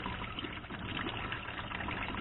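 Running water rinsing excess salt off pickled northern pike pieces, a continuous close trickling splash with no voices.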